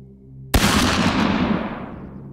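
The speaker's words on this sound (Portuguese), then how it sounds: "ele apontou a espingarda e atirou" A single close, loud shotgun blast bursts out after a low steady hum and trails off in a long, fading rumble.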